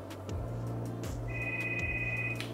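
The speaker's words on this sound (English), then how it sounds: "Oh, there's the phone." A phone rings once with a steady electronic tone in an indoor room, clear over a constant low hum and light background clatter.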